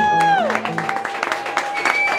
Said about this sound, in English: Nice round of applause for Jacob, everybody.